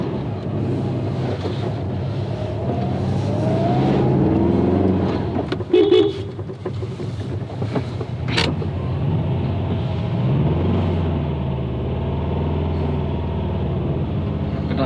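A Subaru engine with badly tuned injection nozzles revs while driving, giving a continuous loud rumble that rises and falls, with a brief clatter partway through and wind buffeting the microphone.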